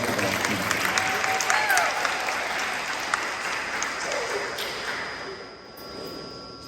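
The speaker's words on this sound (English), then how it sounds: "Let's give another round of applause to the boys basketball team." A sports awards banquet crowd applauds the boys basketball team, a full, sustained roomful of clapping that gradually thins and softens toward the end, with faint voices mixed in.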